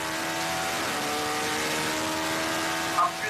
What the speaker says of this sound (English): Up through the gears, the upshifts feel good.